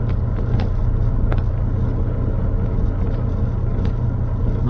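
A dump truck maneuvering to park: an even, low engine drone held for several seconds, with a few faint clicks and knocks on top and no voices.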